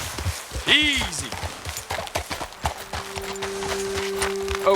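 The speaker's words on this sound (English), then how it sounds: "Best leave the horses back a bit." Horse hooves clip-clop at a steady walking pace in Red Dead Redemption 2, close and continuous, with a brief vocal call near the start and a low droning tone joining later.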